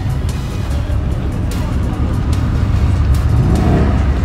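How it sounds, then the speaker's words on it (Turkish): A Ford Mustang revs its engine at a night car meet in Munich, a loud rumbling engine roar close by, with crowd noise and people talking in the background. "Aa, Mustang gaz veriyor."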